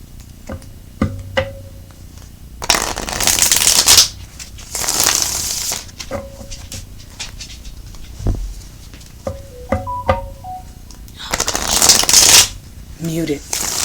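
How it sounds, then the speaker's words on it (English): Tarot cards being shuffled in several separate bursts of dense riffling patter, each lasting a second or two, with quiet gaps and small clicks and taps between them, close and fairly loud. "3 more shuffles and we'll get right into your reading"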